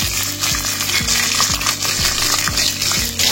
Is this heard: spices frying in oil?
yes